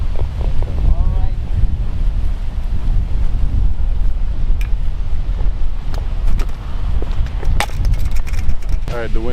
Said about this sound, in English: the wind's starting to pick up here